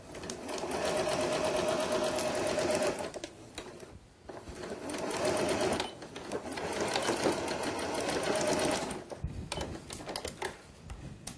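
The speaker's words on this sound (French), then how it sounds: "Je vais donc maintenant coudre le long des épingles à la machine à coudre." A sewing machine stitches along pinned fabric for a pillowcase, running in fast steady bursts with brief pauses between seams, close and clear with no talk.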